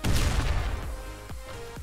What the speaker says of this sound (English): Those explosions are really fucking loud.